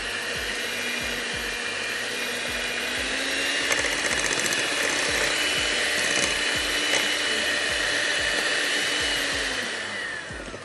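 Electric hand mixer beating sugar, butter and eggs together for a fruit cake, a steady whirring motor hum running continuously and fairly loud, with faint clicks and knocks of the beaters against the bowl.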